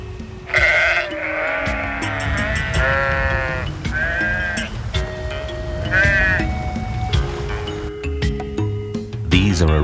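Several goats bleat loudly and repeatedly at a watering place in Namibia, overlapping one another at close range, with a low rumble of activity underneath.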